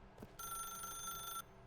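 A video game telephone rings once in a bright electronic trill lasting about a second, close and clear over a quiet background, after a short soft thump.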